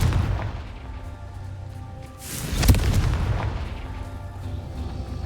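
In Hogwarts Legacy, a Confringo spell sets off a single deep, booming blast partway through, rising over a low rumbling game backdrop and then fading.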